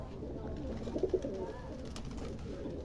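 Pigeons coo softly in a pigeon loft, a few low murmuring coos over a constant hum of background noise, with no clear speech.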